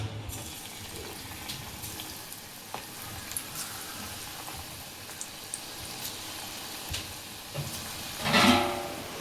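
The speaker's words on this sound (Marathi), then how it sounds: "असे लहान लहान गोळे आपल्याला तेलात सोडायचे।" Small balls of raw banana pakoda batter frying in hot oil, a soft continuous sizzle with light clicks and taps of utensils, ending in a brief louder splash-like burst near the end.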